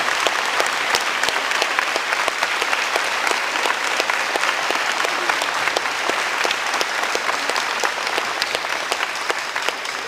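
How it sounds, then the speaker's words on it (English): High school gym crowd at a pink-out basketball game applauds cancer survivors, with sustained, even clapping whose sharp individual claps stand out, lasting about ten seconds. "Let's give these guys a round of applause."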